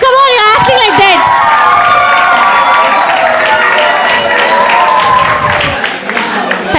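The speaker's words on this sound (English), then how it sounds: "come on! And some cheers as well!" An audience at a national-level management festival at a college of engineering cheers loudly, with high whoops and shouts rising in a dense, sustained roar. It eases slightly toward the end.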